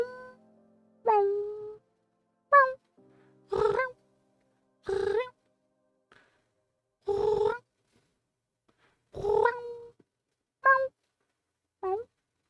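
A person imitates a cat meowing, making about nine short, separate mewing calls with pauses between them, close and fairly quiet against a silent background.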